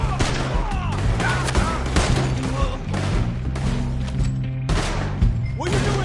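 Rapid, dense gunfire in Red Dead Redemption 2 fills a loud, close shootout, shots cracking in quick bursts with almost no pause, while voices are heard faintly underneath.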